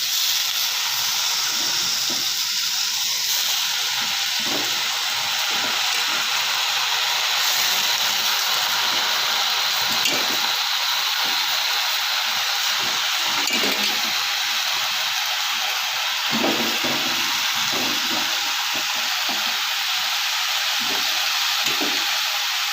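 Spinach sizzles and hisses in a hot pan with fried spices for a Bengali-style palong shaak ghonto, a loud, steady steamy roar with crackles scattered through it.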